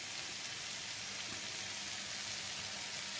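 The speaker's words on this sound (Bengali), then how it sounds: "আগে একটু তেল দিয়ে ভেজে নিচ্ছি।" Bitter gourd fries in oil with a soft, steady sizzle and fine crackle, faint and continuous throughout.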